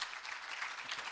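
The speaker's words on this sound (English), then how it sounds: "I would like to give them you know, a round of applause for that." Applause from a conference audience at the Highway Africa 2017 Conference, a continuous crowd clapping wash, faint and distant, with no speech over it.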